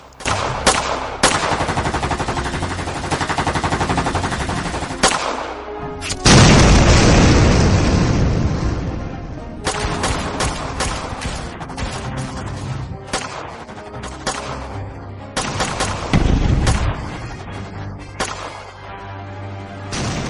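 Gunfire and bomb blasts in an animated police action story, with rapid machine-gun bursts, sharp shots and heavy booming explosions filling the scene loudly and almost continuously, including a big blast partway through.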